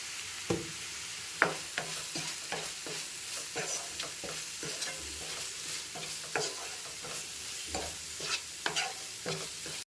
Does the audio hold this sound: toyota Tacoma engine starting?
no